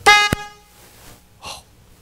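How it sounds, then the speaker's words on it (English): A hand-pushed horn sounded in a lecture hall: one loud, harmonic-rich blast lasting about a quarter second, followed by a softer, shorter second toot, with no talking over it. "I'll honk the horn nonetheless here"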